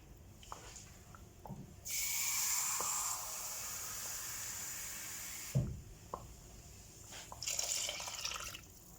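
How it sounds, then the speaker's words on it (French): Water pours from a glass into yogurt sauce, a steady splashing stream of a few seconds, then a shorter second pour with faint drips and clinks around it, close and quiet. "Avec ça, j'ajoute un verre d'eau."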